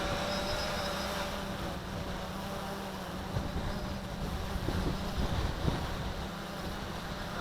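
Steady wind buffets the microphone on a breezy day during a crane shot with a WLToys V303 GPS quadcopter, a continuous broadband rush with a faint motor drone underneath and a few gusty bumps toward the end.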